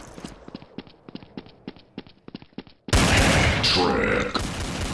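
Gunfire in the video game Counter-Strike: Source: a string of sharp shots in quick, uneven succession, then a sudden loud, dense burst of firing and noise that keeps going to the end.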